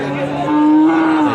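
A Punganur calf or cow lets out a single loud, drawn-out moo up close at a busy cattle market in Punganur.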